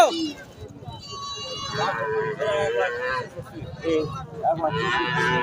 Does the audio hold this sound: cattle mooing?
yes